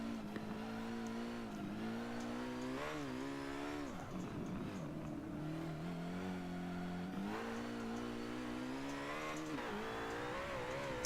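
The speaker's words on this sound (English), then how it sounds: "A little bit of a stutter there because I let the RPMs drop too low" Racing car engine in Forza Motorsport 7, a steady loud drone with revs rising and falling and a rough, wavering stretch midway as the RPMs sag before climbing again.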